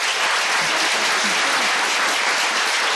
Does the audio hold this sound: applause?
yes